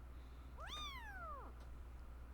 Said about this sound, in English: Oh, I'm loving this kitten right now.